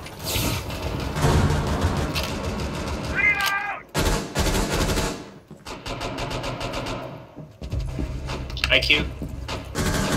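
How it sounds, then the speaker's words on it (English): Rainbow Six Siege gunfire cracks through a window in rapid bursts, a few close rattling volleys set apart by short pauses, with a brief spoken word along the way. "They're shooting in this window again."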